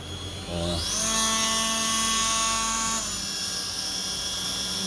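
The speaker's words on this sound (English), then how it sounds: "So if you've got a Dremel or something similar, you can do that." A Dremel rotary tool cuts a bracket on a 2007 Yamaha R1 during a grab rail install. The motor spins up quickly into a sharp, high whine, holds it for about two seconds, then cuts off.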